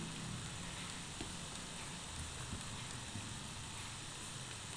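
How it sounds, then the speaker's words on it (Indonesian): Rain falling outside in a steady, dense hiss, a constant wash of fine patter with no breaks and no voices over it. "Ini di tempat saya lagi hujan soalnya,"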